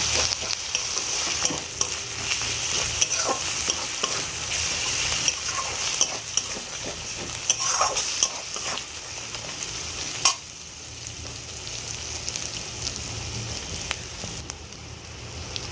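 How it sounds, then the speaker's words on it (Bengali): Spice masala with garlic paste sautéing in a pan for Bengali potol curry, a steady close sizzle and crackle with occasional stirring scrapes, no talking. "রসুন বাটাটা দিয়ে দেবো দিয়ে ভালো করে মশলাটা কষিয়ে নেব"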